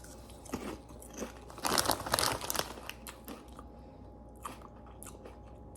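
Close, crisp crunching from someone biting and chewing Lay's spicy dill pickle chips, with bursts of crackling crunches and bag crinkling that settle into quieter chewing.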